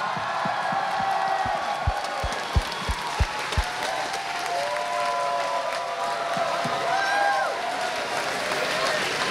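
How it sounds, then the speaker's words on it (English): Crowd at a Sonic the Hedgehog birthday fan event applauding and cheering, a dense wash of clapping with a few whoops, steady and moderately loud throughout, with some voices mixed in. "Please, one more round of applause for Sunui-san, Izuka-san, and Naka-san"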